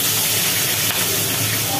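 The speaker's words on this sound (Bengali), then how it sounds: "এই মাথার খানিকটা ভাজা হচ্ছে" A catla fish head fries in hot oil in a pan, giving a loud, dense, continuous sizzle and spatter close up with no pauses.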